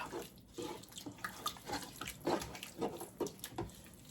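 Water is poured into enchilada casserole sauce in short, uneven splashing gurgles, fairly quiet and close, with no talking.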